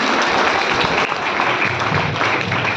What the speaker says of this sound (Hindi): आप लोग जोर से तालियां बजाएं।